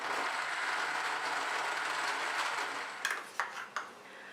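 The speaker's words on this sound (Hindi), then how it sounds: "अब दोबारा से इसको बंद करेंगे और अच्छी तरह से ग्राइंड करेंगे।" A blender grinds mango with ice cubes and milk in a steady, loud whirring churn, then a few sharp clinks sound near the end.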